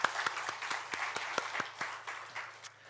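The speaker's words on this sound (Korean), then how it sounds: "우리 하나님께 영광의 박수 올려드리겠습니다" Congregation clapping in church during a Sunday worship service, a moderate wash of applause with a few sharper individual claps standing out, slowly thinning toward the end.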